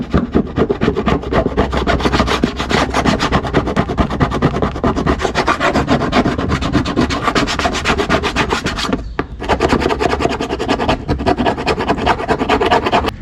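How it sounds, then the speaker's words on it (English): A paint scraper strips paint off the body of Yamaha's smallest quad, making a steady, close, rasping scrape that runs almost without a break, with one brief pause partway through. "I resorted to this paint scraper, and it's actually working out really well."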